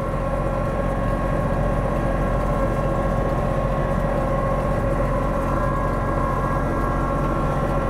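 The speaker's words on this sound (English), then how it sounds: "push forward with the cutting edge kind of doing the work to scrape off the ice and the slush" A Kubota B2650 compact cab tractor with a front loader pushes its cutting edge along a drive, scraping off snow, ice and slush, giving a continuous engine rumble with rough scraping noise throughout.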